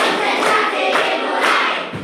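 A classroom of students in Indonesia performs a concentration clap chant, voices shouting together in loud bursts with rhythmic claps and thuds, close and energetic.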